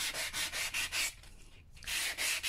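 Sandpaper rubs back and forth over heat-embossed card stock, giving a faux patina effect in a papercraft setting. Close, steady scratchy strokes in quick rhythm pause briefly in the middle, then resume.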